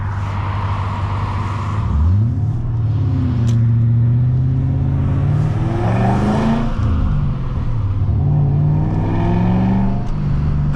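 A 1998 BMW 540i V8 with a six-speed manual pulls hard from inside the cabin with the windows open. The loud engine note climbs and falls through gear changes, with a deep, steady drone between shifts.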